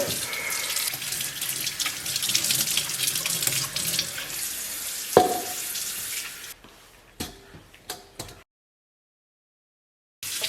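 Beef hooves are rinsed under cold running tap water: a loud, steady gush for about six seconds, then a few sharp knocks and brief splashes before the sound cuts to silence.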